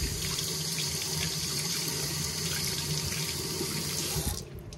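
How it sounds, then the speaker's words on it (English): Tap water runs from a faucet into a sink to wet a makeup beauty blender sponge, a steady, close hissing stream that cuts off abruptly just before the end. "I always wet my beauty blender before I use it."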